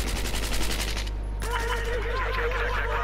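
Rapid automatic gunfire from a machine gun in Battlefield 4, a steady loud rattling burst with a short break near the middle before the firing resumes, continuing to the end.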